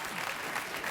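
A late-night talk show studio audience breaks into brief, bright clapping, a dense and even burst of many hands heard alone for about a second.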